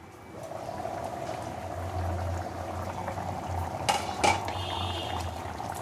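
Amritsari chole simmers covered in a pot, giving a steady close bubbling and gentle rattle, with a couple of brief clinks near the end and no speech.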